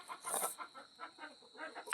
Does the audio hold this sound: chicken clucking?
yes